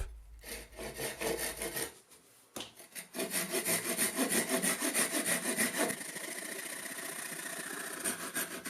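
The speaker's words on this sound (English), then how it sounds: "Japanese saws are outstandingly sharp." A sharp Japanese hand saw cuts through wood in quick, steady back-and-forth strokes, close and clear. A short pause comes before the rasping rhythm resumes and runs continuously.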